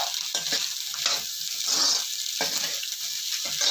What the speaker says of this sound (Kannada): ಇವಾಗ ಚೆನ್ನಾಗಿ ನಾವು ಫ್ರೈ ಮಾಡೋಣ.